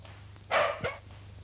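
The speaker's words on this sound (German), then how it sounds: "Und der Hund bleibt im Zimmer." A dog gives a single short bark, followed by a softer yip, indoors in a room; quiet, close, with no talk around it.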